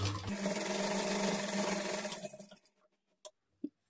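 A sewing machine stitches a child's lehenga top, a steady close whirring run for about two seconds that winds down into quiet, followed by a couple of brief clicks.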